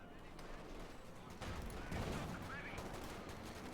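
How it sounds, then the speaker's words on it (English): StuG assault gun firing in Company of Heroes 2 amid a World War II battle, a fusillade of gunfire with a heavier blast and rumbling tail, heard fairly faint and distant. "StuG firing away there."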